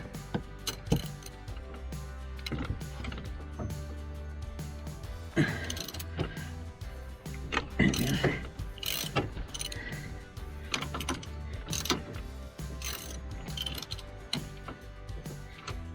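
Ratchet wrench working a nut underneath a machine being serviced, irregular metallic clicks and clanks scattered throughout, close and moderately loud.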